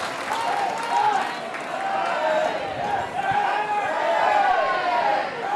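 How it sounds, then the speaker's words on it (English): Spectators at a women's rugby match between Exeter Chiefs and Saracens cheer and clap in a sustained, swelling roar of crowd noise that rises and falls over several seconds, with no clear single voice on top. "Crowd are very happy with that one."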